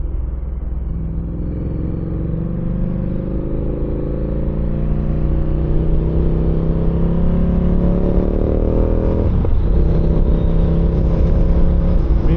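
A Ducati Diavel 1260 motorcycle engine rumbles loud and close, its revs climbing gradually with a brief dip before recovering. No voices are heard.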